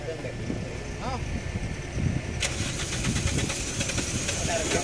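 A car out of petrol being cranked, its engine turning over with a rough mechanical churn under a steady background rumble, growing busier midway, while someone talks over it.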